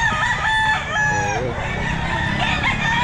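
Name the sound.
rooster crowing at a pet market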